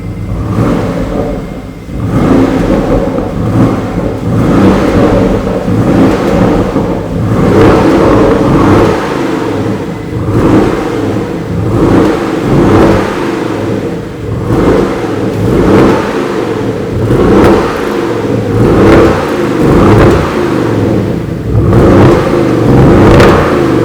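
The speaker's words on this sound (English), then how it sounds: "let me first show you the sound of this Porsche Cayenne Turbo, which has got a V8 engine" Porsche Cayenne Turbo V8 engine running continuously, revving up and down in repeated surges with a deep, throaty rumble, loud and close throughout with no talking.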